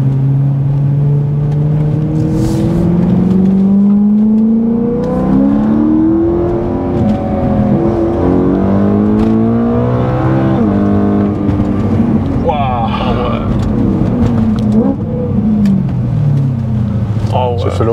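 BMW M3 with a loud exhaust, engine revving and rising in pitch over several seconds, close and continuous, with people talking over it throughout.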